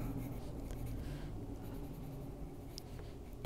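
A pencil lightly shades on paper with barely any pressure, producing a faint, continuous soft scratching that stays close and quiet with no voices.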